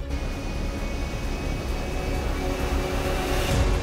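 A stolen airplane's engine drones steadily in the GTA RP video game, a loud continuous roar with a faint high whine that swells slightly near the end.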